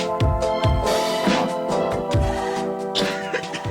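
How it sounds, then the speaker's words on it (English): One person coughs several times in a short burst, close and loud, with a few throat-clearing rasps between the coughs. "Well, I already coughed."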